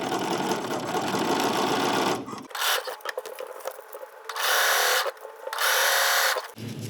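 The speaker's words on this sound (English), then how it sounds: "I also have my even feed foot on." A sewing machine fitted with an even feed foot stitches a summer dress, running in loud steady whirring bursts that stop and restart several times, close up with no talking.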